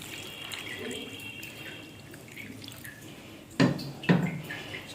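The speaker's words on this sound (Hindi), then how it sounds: "चलें अब हम इसको ठंडे पानी से वॉश कर लेते हैं" Grated potatoes being washed in cold water, with a faint steady trickle of running water and two louder splashing sloshes near the end, close by.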